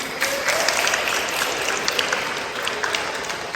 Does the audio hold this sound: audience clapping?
yes